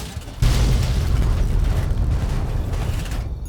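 A Fat Man nuclear launcher round detonates in Fallout 3, a sudden loud blast that swells into a long deep rumbling roar and trails off after about three seconds.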